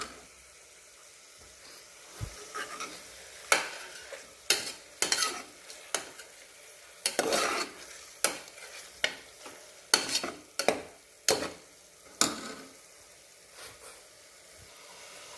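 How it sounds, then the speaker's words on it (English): Two eggs being sautéed and stirred in a pan over a low flame for biryani, with a soft background sizzle broken by repeated sharp scraping strokes of a spatula at an irregular rhythm, close and fairly loud, no talking. "I just added these 2 eggs. Keep sauteing for 2 minutes in a low flame."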